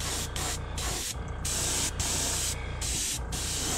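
An airbrush sprays pearl white paint onto a crappie fishing lure in repeated hissing bursts, each a second or less, with brief gaps between them and no talking.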